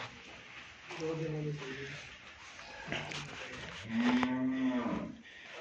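A Friesian cross cow moos several times, with one long, fuller call near the end, up close. Someone talks over and between the calls.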